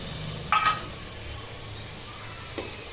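Chili spice mix hits hot oil in a frying pan with a sharp sizzling burst, then a quieter hiss, followed by a second brief sizzle near the end.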